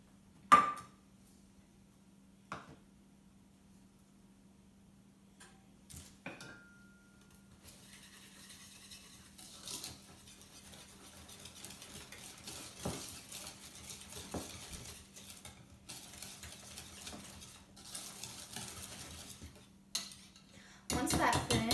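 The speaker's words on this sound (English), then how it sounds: "Now you combine all of your wet ingredients in your small mixing bowl with your whisk." A whisk stirs wet ingredients in a small mixing bowl, with scattered taps and clinks early on, then a steadier stretch of scraping and swirling, faint and close, and no speech.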